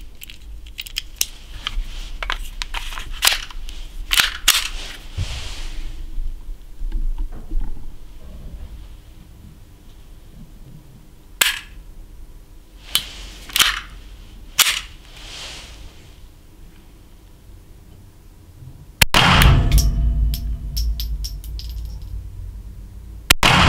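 CZ P07 pistol fitted with a .22LR conversion firing, sharp cracks in irregular single shots and short clusters spread over about twenty seconds, with a louder, denser burst of rapid reports near the end.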